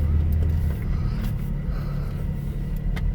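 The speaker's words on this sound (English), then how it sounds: "Whoa, big truck" A big truck rumbles past on the road, heard from inside a moving 2005 Chevy Express 3500 van with a 6.0 Vortec engine, a steady loud low road drone filling the cabin throughout.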